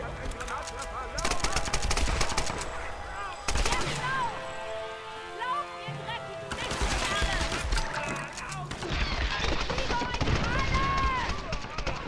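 In the Tomb Raider video game, a weapon fitted with a grenade launcher fires repeated bursts of rapid, loud gunfire, with someone talking over the shots.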